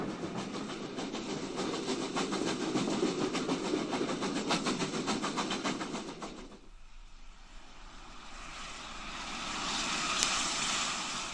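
A steam train on the Southwold Railway runs steadily on rails with a continuous rumble and rhythmic clickety-clack, the sound thinning and shifting partway through.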